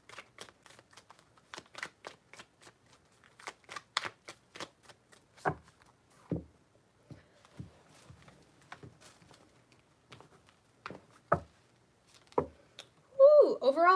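Tarot cards shuffled by hand during a reading, a run of crisp riffling bursts and taps in uneven rhythm, close and fairly quiet.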